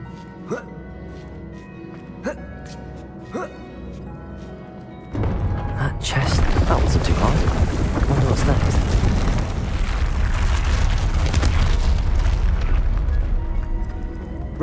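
A spell blast from the game Hogwarts Legacy, the Depulso charm, arrives as a sudden booming burst after several brief sharp ticks, then spreads into a loud, sustained roaring wash of magical noise that lingers.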